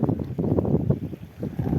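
Gusty wind buffeting the microphone during outdoor fishing, low rumbling bursts rising and falling in waves, fairly loud and close.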